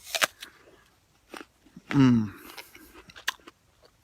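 A crisp crunch of fresh allotment produce bitten and chewed close up, one loud bite in the middle surrounded by soft chewing and brief talk.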